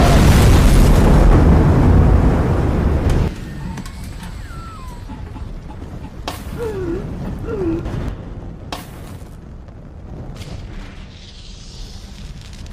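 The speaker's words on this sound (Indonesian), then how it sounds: "Sedangkan rudal Formidable meledak di badan Titan dan menenggelamkannya." Missile explosion striking a submarine in a war film, a loud heavy boom and roar for about three seconds, followed by quieter rumbling debris, creaks and scattered metallic clanks.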